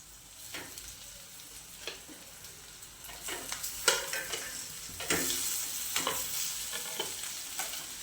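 Mashed potatoes with turmeric sautéed in a pan for potato vadas, a close, continuous sizzle broken by repeated scraping stirs of a spatula at an irregular rhythm.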